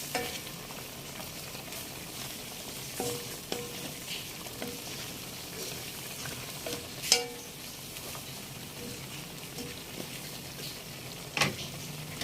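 Pinakbet vegetables (string beans, eggplant, okra and bitter melon) being stirred in a pan, soft sizzling with occasional scraping and clacks of the utensil, fairly quiet and steady.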